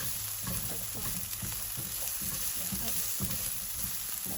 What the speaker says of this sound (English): Just fry out for a bit and mix it around